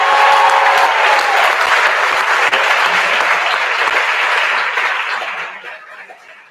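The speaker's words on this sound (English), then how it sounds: "Please, a big round of applause for Stacy Reese" An audience at a school graduation ceremony gives loud, dense applause for an honoree, sustained at first and then gradually fading away toward the end.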